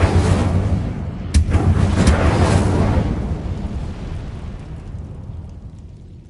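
Incendio fire spell cast in the game Hogwarts Legacy: a loud fiery burst with a sharp crack partway through, rumbling on and slowly fading over several seconds, with no talk.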